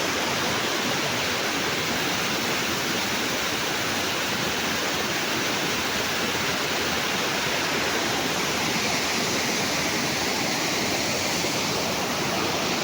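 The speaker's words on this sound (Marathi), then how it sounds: "ह्यो होतं आमचं छोटंसं धबधबो" A small Konkan waterfall in Sindhudurg during the monsoon, with water pouring down in a constant, loud, broadband rush that stays unchanged throughout and has no voices over it.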